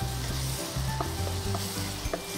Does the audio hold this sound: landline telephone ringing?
no